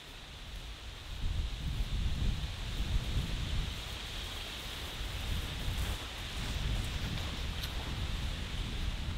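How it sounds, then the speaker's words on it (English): Steady outdoor wind rushing through swaying trees on a hiking trail, with rustling leaves and a broad, continuous wash of noise that swells and eases slightly, no voices. "As the trees swayed in the wind"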